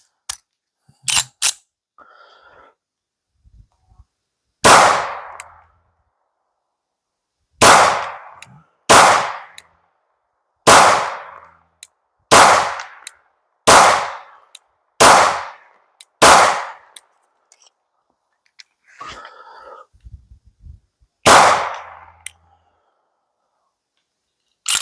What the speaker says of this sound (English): Let's go ahead and throw some rounds down range.